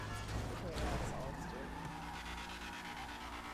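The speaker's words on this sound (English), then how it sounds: "Oh yeah, this car revving up." A car revs hard and its tyres skid as it drifts after the handbrake is pulled, a loud continuous engine roar with tyre squeal, with voices talking over it.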